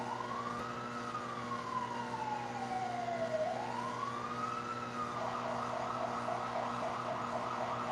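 Emergency vehicle sirens wail in the distance, rising and falling in long sweeps before switching to a rapid warble, over a constant low hum with no talk.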